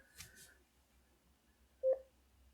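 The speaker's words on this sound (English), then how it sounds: "We'll get a tone that it's paired." The ZOER X5, a Qi wireless charger alarm clock with a Bluetooth speaker, plays a single short pairing tone near the end, preceded by a few faint clicks in an otherwise quiet room.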